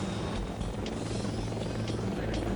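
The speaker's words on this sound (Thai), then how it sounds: "ในมอดแมปคอปเตอร์เยอะมาก" Helicopter flying in the video game Delta Force Black Hawk Down, a steady loud rotor drone with faint ambient noise and no clear speech.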